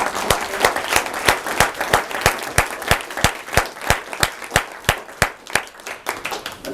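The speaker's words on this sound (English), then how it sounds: "So we have a bunch of undergrads also from the Tufts University. You are raising your hand, so how about a round of applause?" A small group in a university event audience claps in a slow, regular rhythm, with each sharp, distinct clap standing out clearly and nearby, with no background talk.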